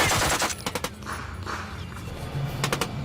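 Machine gun fire in a war film's trench battle, rapid bursts of loud cracking shots over a dense rumbling din, with a brief lull in the middle.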